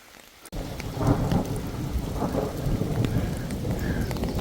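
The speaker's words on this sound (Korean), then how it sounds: "천둥 치고 난리 났습니다" A thunderstorm with hail pelts a steep mountain trail near Bangtaesan, a sudden loud onset followed by a continuous heavy patter of rain and hail with rumbling thunder underneath.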